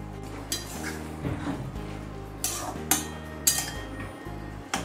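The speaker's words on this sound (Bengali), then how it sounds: "একটু ঢাকাটা খুলে নেড়ে দিচ্ছি।" A lid comes off a pan of pointed gourd (potol) cooked with poppy seed, and the pieces are stirred with a few clinks and scrapes of a spoon against metal over a low background hum.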